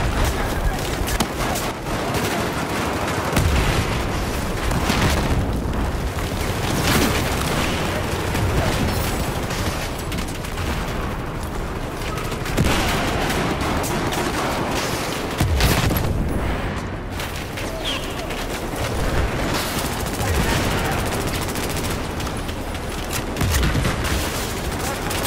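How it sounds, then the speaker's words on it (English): Battlefield 4 combat with C4 explosions, flashbangs and gunfire: dense, continuous loud bursts of shots and booms with several heavy blasts standing out, under a steady roar of battle noise. "he's going to do that with C4 and flashbangs"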